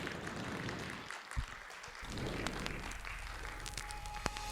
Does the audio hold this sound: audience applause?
yes